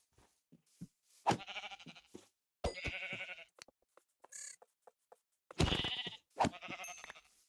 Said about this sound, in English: Okies, I can see 3 sheep ahead.